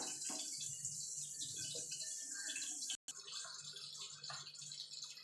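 Khoira fish in a mustard curry boiling in a pot, giving a steady, close bubbling and gurgling that runs throughout with one brief cut-out midway, no voices.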